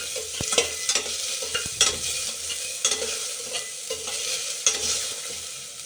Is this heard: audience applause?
no